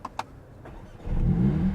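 A Mercedes-AMG CLA45 S engine fires up after a couple of brief clicks, settling into a loud, deep rumble close by.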